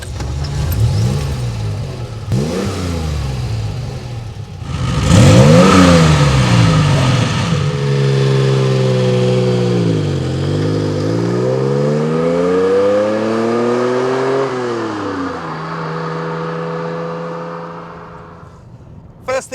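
A Renault Alpine A310 engine revs through several rising and falling sweeps while driving, loud and close. Shifts between gears break the pitch climbs, and a deep rasping note holds through a long pull before it eases off.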